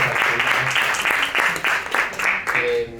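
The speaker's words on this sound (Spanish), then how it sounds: "Así que un aplauso nuevamente." Applause at a debate talk with retirees in Argentina, a crowd clapping fairly close with uneven surges, mixed with voices and cheering, fading as a voice comes in near the end.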